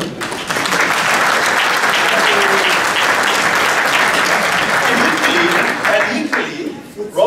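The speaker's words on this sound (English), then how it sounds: "And the applause for him." A real estate workshop audience bursts into loud, sustained applause that fills the room evenly for several seconds, then tapers off with a few scattered claps and voices at the end.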